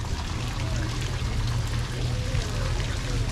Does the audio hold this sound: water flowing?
yes